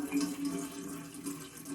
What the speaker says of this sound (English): I'm going to pour my water